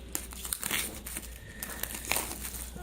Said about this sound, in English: Let's pull out this plastic.